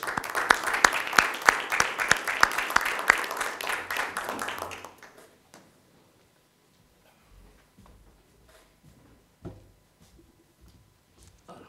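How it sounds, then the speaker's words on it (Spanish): An audience at a conference applauds a speaker for about five seconds, scattered individual claps standing out, then the clapping fades into quiet room noise and faint movement. "Le damos un aplauso a Emilio"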